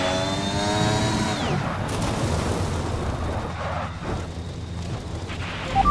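A car crashes in the F1 2020 racing game, driving an Alpha Tauri: an engine whine drops away into a loud, sustained rumbling impact with scraping debris, near and dominant throughout, with no talking.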